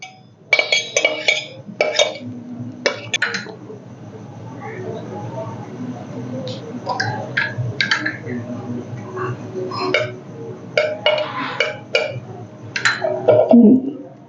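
A deep clay or china vessel clinks repeatedly as yogurt starter is mixed into warm milk, irregular sharp taps in short bursts with someone talking between and over them.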